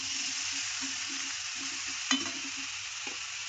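Onions and tomatoes sauté in a pan for a chana dal chutney, giving a steady soft sizzle with intermittent stirring scrapes and one sharper clink of the spoon against the pan.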